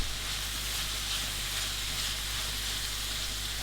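Chili, garlic and dry spices frying in a pan for shakshuka: a steady, loud, close sizzle with even hissing throughout and no voices over it.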